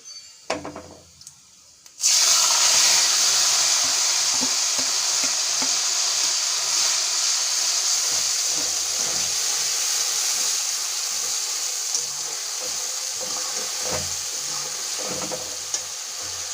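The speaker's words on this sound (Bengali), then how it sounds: "পেঁয়াজটা ভালো করে লাল লাল করে ভেজে নেবো" Onion paste sizzles and fries in a hot pan with whole spices for Bengali dahi chicken, a loud steady hiss starting abruptly after a brief quiet moment, punctuated by frequent scraping stirs of a spoon.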